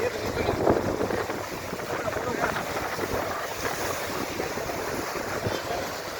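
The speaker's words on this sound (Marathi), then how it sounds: "पाण्याचा प्रवाह या ठिकाणी चालू आहे." Loud, continuous rush of water released from open dam gates at Yeldari, with roaring, wind-like noise filling the whole clip.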